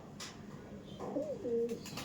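A male kaldom pigeon coos once, a short soft rolling note rising and falling near the end, close by over faint background hiss.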